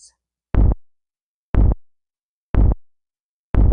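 A kick drum sample built from a door sound, shaped with EQ, a compressor and a saturator, hits four times at an even one-second pace, each thump punchy and short with a crunchy edge, alone.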